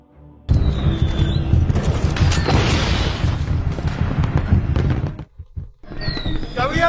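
A film battle scene erupts with loud booms and crackling gunfire, a dense rumbling barrage that suddenly drops out near the end before sharper shots and debris noise return.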